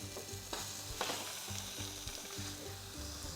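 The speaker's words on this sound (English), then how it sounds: "we're going to cook off some lemon slices and some garlic" Lemon slices and garlic frying in an oiled pan, a steady close sizzle and crackle running throughout with a few louder spits and pops; no voices.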